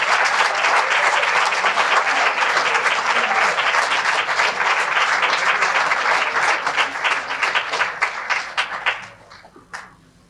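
A large audience applauding at an exhibition event, dense sustained clapping filling the room for about nine seconds before quickly tapering off to a few scattered claps.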